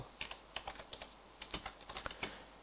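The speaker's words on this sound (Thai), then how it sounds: "ณ จุดนี้ผมพิมพ์คำว่าอีเมล" Steady, close typing on a computer keyboard: a run of light, crisp key clicks at an uneven pace, with a faint background hum and no talking.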